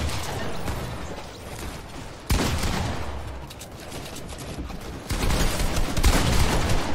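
Bursts of rapid gunfire crackle in a video game, loud and dense, with sharp onsets at intervals and sustained rattling volleys between them.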